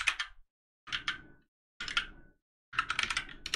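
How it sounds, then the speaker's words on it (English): Keys clatter in four quick bursts of typing, crisp and close, separated by short silent pauses. "now let me start typing"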